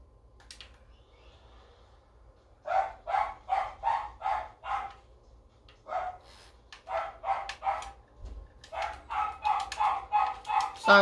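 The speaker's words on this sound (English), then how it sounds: "Sorry guys if you hear my dog barking in the background." A dog barks repeatedly in bursts at moderate distance, several series of rapid barks with short pauses between them, standing alone without talk over a quiet room background.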